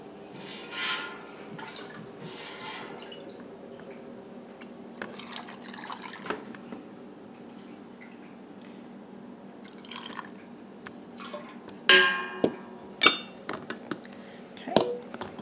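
Soft liquid pouring and dripping as ham stock is ladled into a glass jar, light clinks of the ladle against glass, a few sharper taps near the end, close and quiet.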